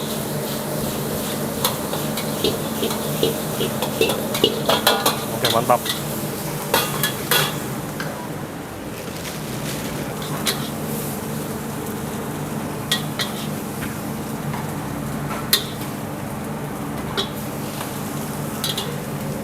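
Chicken stir-fried in sauce in a busy restaurant wok, with a steady sizzle and repeated metallic clanks and scrapes as the wok is tossed and stirred, plus a brief voice.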